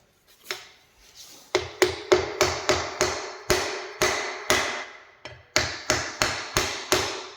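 A hammer drives a part home during a VW Karmann Ghia/Beetle air-cooled engine build, with about a dozen sharp, ringing strikes close up. They come in quick bursts with short pauses between.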